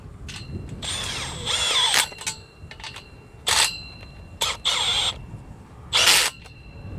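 A power drill driving a 1/2 inch deep socket onto a purlin bolt of a Quonset greenhouse, several loud whirring bursts of a second or so each, separated by short pauses, with no talking.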